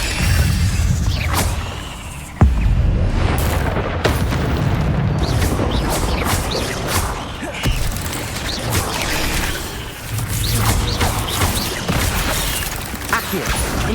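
Incendio fire spells are cast in the Hogwarts Legacy video game, producing repeated booming bursts and crackling impacts over a thick, continuous roar of battle sound, loud and close, with speech heard at times.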